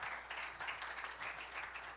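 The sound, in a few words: applause from panel audience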